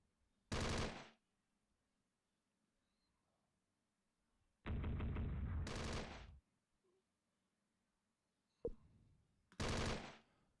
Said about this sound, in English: See if we can put any sort of gunfire down